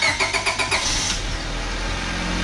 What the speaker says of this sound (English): First thing to do is start your car and warm it up to operating temperature.